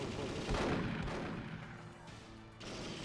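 Gunfire in the shooter Perfect Dark during an Area 51 infiltration mission, a burst of dense shots up front that thins into a steadier, quieter rattle over game background, with a voice talking faintly underneath.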